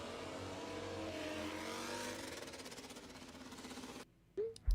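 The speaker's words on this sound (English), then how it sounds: "Oh, it's so nice to hear the engines back, isn't it?" MotoGP motorcycle engines at the Sepang pre-season test in 2024, a sustained loud engine roar with revving pulses that cuts out abruptly, leaving brief quieter knocks and noise at the end.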